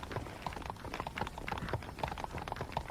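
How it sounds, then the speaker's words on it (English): Horse hooves clip-clop steadily in Red Dead Redemption, a busy rhythmic patter of footfalls at moderate loudness with no talk over them. "I asked Nastas to bring the horses around front"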